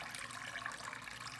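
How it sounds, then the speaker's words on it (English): Water pours steadily into a big bowl being filled about two-thirds full as a pretend ocean for a water cycle experiment, a brief continuous rushing splash at close range. "We're going to fill this thing about 2/3 the way up."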